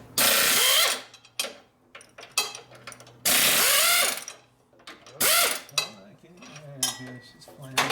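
Ratcheting socket wrench working on the transmission of a 1967 Harley-Davidson 74ci shovelhead FLH during a rebuild, in bursts of loud metallic clicking separated by quieter clanks and tool handling.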